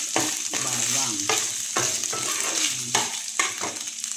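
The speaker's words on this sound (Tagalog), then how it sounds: "ginagita ko na po siya sa sibuyas at bawang" Chicken liver sautéing with onion and garlic in a pan: a close, steady sizzle broken by repeated scraping and stirring strokes at an uneven rhythm.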